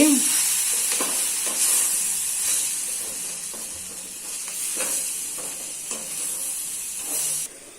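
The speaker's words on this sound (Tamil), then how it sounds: "பொடியை போட்டிருக்கிறதுனால ஒரு பெரட்டிப்போம் சிம்மில் வச்சு" Ground spice powder is stirred into a simmering fenugreek kuzhambu, giving a continuous soft sizzle and steamy hiss with scraping stirs recurring every second or so, no talking.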